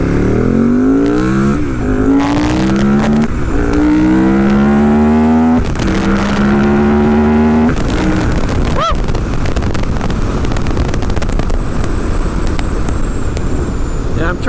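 A 2014 KTM 1290 Super Duke ridden hard in sport mode, the engine revving up through the gears in rising sweeps with quick shifts between, loud and close under steady wind rush.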